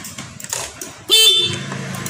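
Horn of a Honda Vario 150 scooter with a fault where the starter gives no response, only clicking at the fuse box, sounding once loudly for about half a second after quieter background noise.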